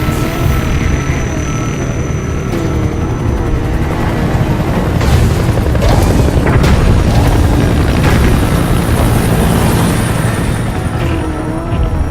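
A loud, steady rotor roar of a support helicopter arriving for extraction in the video game Metal Gear Solid V fills the scene, mixed with deep rumbling booms and bursts of battle noise throughout.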